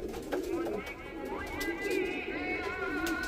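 Teddy pigeons cooing, soft repeated throaty coos close by with a voice talking over them.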